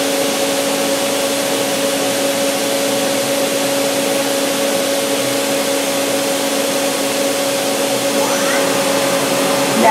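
A DMG Mori Sprint 42/8 linear CNC Swiss lathe spindle runs at 4,000 RPM, giving a steady, close, fairly quiet mechanical whine with faint tones throughout.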